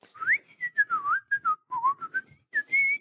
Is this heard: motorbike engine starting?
no